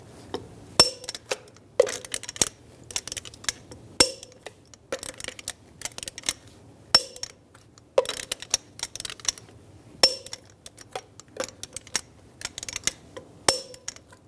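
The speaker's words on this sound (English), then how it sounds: "Now we're going to torque the lug nuts to 130 foot-pounds in a cross pattern to tighten the wheel down evenly." A torque wrench tightens lug nuts on a Ram 1500 wheel to 130 foot-pounds in a cross pattern, giving a series of sharp metallic clicks and clanks in irregular bursts, close and moderately loud.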